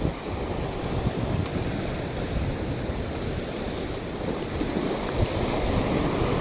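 Sea waves surging against a rocky shore in a steady, loud roar of rushing water and spray, with wind buffeting the microphone throughout.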